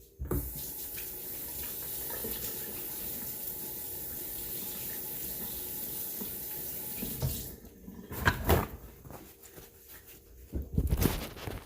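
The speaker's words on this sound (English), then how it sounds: "Let me wash my hands." A kitchen tap runs in a steady close rush as hands are washed after mixing biscuit dough, then the flow breaks up with splashes and rubbing near the end, with no talk.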